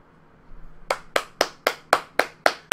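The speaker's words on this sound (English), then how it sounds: "Super good round of applause for our announcer." Seven sharp, evenly spaced hand claps ring out close by after a brief quiet moment, like a small burst of applause from one person.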